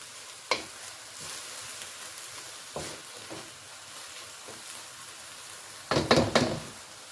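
Lettuce wrap filling cooks in a pan with a low, quiet sizzle, broken by a few sharp knocks of a utensil and a cluster of scraping stirs near the end.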